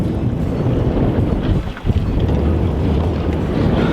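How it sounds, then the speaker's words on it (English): Wind rushes and buffets across the microphone on a fishing boat out on open water near Port Mansfield, a loud, continuous roar with a brief dip midway and no talking. "The wind picked up a little bit more than I expected it to"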